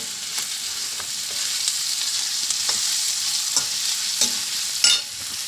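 Sliced onions sautéing with salt in a hot pan as the base for a crab roast, a steady bright sizzle throughout with occasional soft stirring scrapes near the end.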